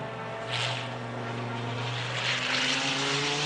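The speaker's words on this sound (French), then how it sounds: "Écoutez le bruit de V10 incomparable" Dodge Viper V10 race car at the 1994 Le Mans 24 Hours, a loud continuous engine drone with steady harmonic tones that swell slightly as it passes, sustained throughout with no talking.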